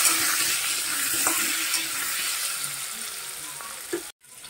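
Marinated turtle meat frying in a pan at home, a steady close sizzle with faint stirring scrapes, ending in a brief cut of silence.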